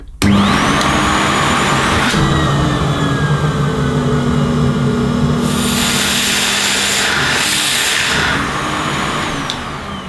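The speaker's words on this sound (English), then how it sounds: "So when I switch on, it will be an automatic, and as soon as I start to block the suction off, the motor will start to reduce in speed." A vintage Miele S240i cylinder vacuum cleaner runs loudly and close with a steady whine, its motor pitch dropping as the suction is blocked, then rising and shifting again over ten seconds.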